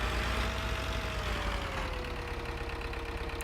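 A tractor engine idles in Farming Simulator 2013, a steady low mechanical rumble with a faint rhythmic pulse and a slowly falling tone, continuous and alone.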